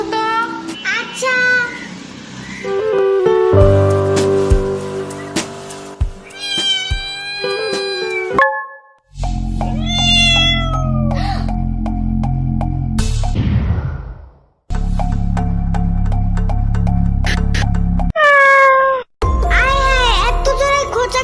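Cartoon cats meow again and again, loud drawn-out cries that rise and fall, set against background music.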